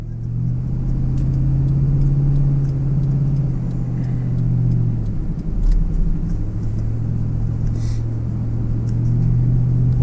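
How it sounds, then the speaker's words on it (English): Vehicles passing on a busy highway, a steady low rumble of engines and tires with one louder pass swelling midway, continuous and fairly close. "It's a pretty busy highway."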